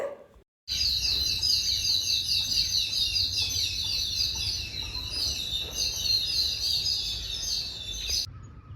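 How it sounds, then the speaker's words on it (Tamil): Sparrows chirp busily in front of a house in a rapid, continuous twittering chorus over a low background hum, with no voices. "வீட்டுக்கு முன்னாடியே பாருங்க குருவிங்க என்னவா சத்தம் போட்டுட்டு இருக்காங்கன்னு"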